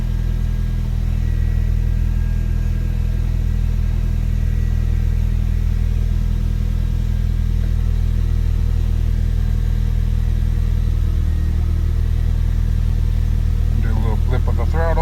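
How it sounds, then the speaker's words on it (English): A Nissan Sentra idles on a cold start with a steady low engine rumble, then takes a quick throttle blip near the end that briefly raises the revs. "Do a little blip of the throttle."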